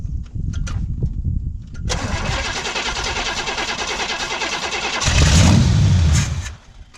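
A forgotten drag car rescued from a scrapyard cranks and its engine catches, rising into a loud, rough running roar that swells briefly before dropping off near the end, heard up close with no talk.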